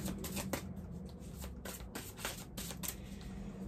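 Oracle cards shuffled by hand before a draw in a spiritual card reading, a steady run of close, crisp riffling and flicking with no talk.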